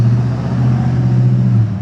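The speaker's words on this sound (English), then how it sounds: "Sorry for the road noise, guys." Steady road traffic noise beside a parking lot, a continuous low rumble of passing vehicles that stays loud and even throughout the short stretch, with no voices over it.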